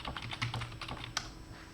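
Quick keystrokes on a computer keyboard as a sudo password is entered on a GNU/Linux machine, a short burst of close, light clicks in an uneven rhythm, heard alone.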